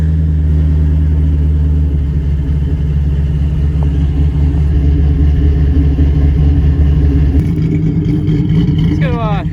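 A Toyota Prius with a new battery starting up, a loud, close engine hum and rumble running steadily, then shifting pitch near the end as the engine settles, with a voice speaking over it.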